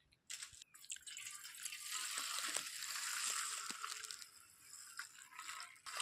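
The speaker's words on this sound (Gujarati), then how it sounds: "હાવ પાણી રેડી લે" Water is poured in a steady, faint, splashy stream at a rural farmhouse kitchen in Gujarat, lasting several seconds with small drips and clinks around it and no talk.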